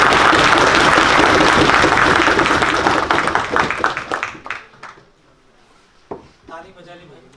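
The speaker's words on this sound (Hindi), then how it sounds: "ताली बजा ली भाई।" Audience applause at a talk by a Param Vir Chakra recipient, loud sustained clapping from a crowd that thins out into scattered claps and fades, with a few last isolated claps near the end.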